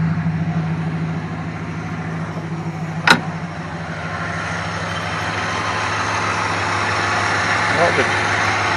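A 1962 Plymouth Belvedere engine idles steadily nearby with a low, even rumble, broken by one sharp click or knock midway.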